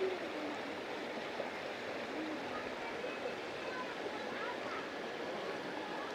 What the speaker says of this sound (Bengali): পাহাড়ের কোল বেয়ে এরকম জল আসছে আর সেই জলে স্নান করার মজা নিচ্ছেন।